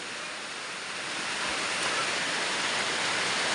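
Heavy rain pouring down in a steady, dense hiss, loud and unbroken, with no voices.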